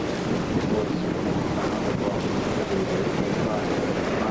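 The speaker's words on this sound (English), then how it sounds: "This wind almost takes your breath away." Strong wind roars across the microphone during a boat ride near New Orleans, a steady loud rushing buffet mixed with water and engine noise throughout.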